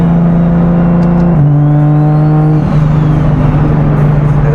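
Car engine with a turbo, revving from a steady idle with a shift in pitch partway through, loud and close with a faint whistle above the engine drone, no talking.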